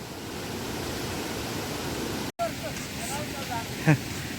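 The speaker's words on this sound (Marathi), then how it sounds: "व्हाळा का आवाज बघा केवढा" A village stream rushes loudly and continuously with full, steady roar, broken by a split-second dropout, with a faint voice-like tone surfacing near the end.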